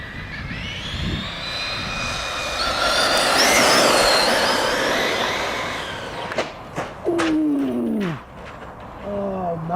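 A PD Racing TK10 4S RC monster truck races past at speed, its high whining motor swelling loud near the middle and then fading, followed by several sharp squeals and quick bursts, with a voice heard briefly.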